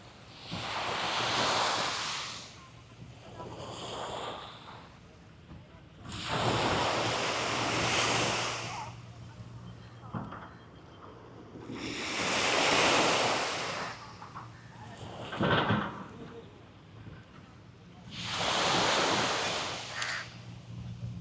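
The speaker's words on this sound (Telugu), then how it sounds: "ఆ కెరటాల అలల సౌండ్ అలాగా వినేసి" Sea waves break in long, slow surges on an open beach in Dubai, four big rolling washes swelling and fading in turn, with steady wind buffeting the microphone between them.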